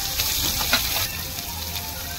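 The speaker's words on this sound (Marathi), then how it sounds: "ठेचलेला लसूण टाकूया" Crushed garlic dropped into hot oil with cumin and mustard seeds hisses steadily in a pan, a continuous close sizzle with faint crackles and no talking.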